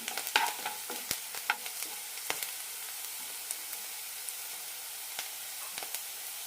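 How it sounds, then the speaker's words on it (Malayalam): Onions fry in a pan as a quiet, steady sizzle, with frequent sharp clicks of a spoon stirring against the pan. The sound is close and there is no talking. "സവാള ചെറുതായൊന്ന് ചുവന്ന് കിട്ടണം."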